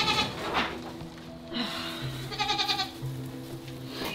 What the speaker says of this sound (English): Massive baby goat.